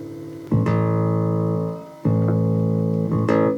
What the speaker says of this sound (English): Let me tune the bass first.